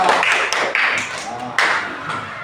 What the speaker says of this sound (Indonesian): Beri tepuk tangan untuk kelompok 1 yang sah.